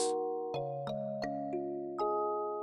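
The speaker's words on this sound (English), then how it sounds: "The doorbell chimed with a soft clang." A doorbell chimes a descending sequence of bright, ringing tones, each note struck and sustained, close and clear in a quiet room.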